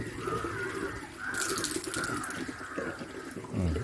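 Water pours steadily from the tap of a natural water filter, a close, continuous splashing rush that swells and eases slightly, with no talk.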